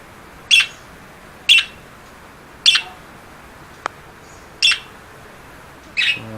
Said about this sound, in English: Look at these beautiful birds.